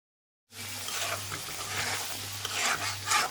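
Spice masala for chicken biryani fries in a pan, a continuous close sizzle with soft scraping stirs and a slight low hum underneath, starting after a brief silence.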